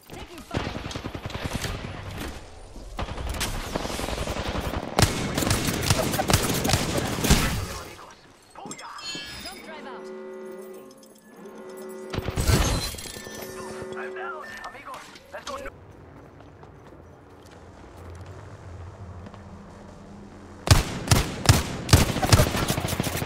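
Gunfire in Apex Legends, with rapid bursts of automatic shots coming in several loud volleys separated by quieter gaps, while voices talk through parts of the fight.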